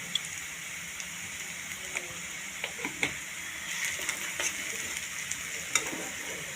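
Spiced red masala with cumin powder for a rohu fish curry sizzles steadily in a frying pan, with intermittent soft scraping and tapping from a spoon as it is stirred.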